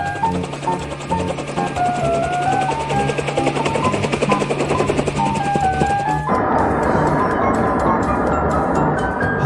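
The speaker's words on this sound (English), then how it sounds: "Helicopter." A helicopter's rotors chop loudly and steadily with a whirring mechanical drone, and the engine tone shifts partway through.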